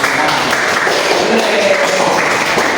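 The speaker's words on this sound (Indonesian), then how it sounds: "Oke, tepuk semangat" Participants at a teacher-training session clap through the patterned 'tepuk semangat' routine, a steady, loud wash of many hands clapping at close range with no break.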